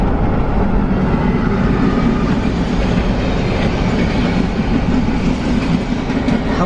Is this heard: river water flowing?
no